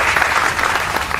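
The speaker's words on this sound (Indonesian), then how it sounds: "tepuk tangan" Students in a classroom clap together in a brief, dense burst of applause, steady and close.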